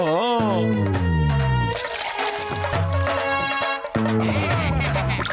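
Cartoon car wash scene with water splashing and gurgling as a chemical is mixed in, set under a bright, tonal musical jingle that swells and drops away in bursts.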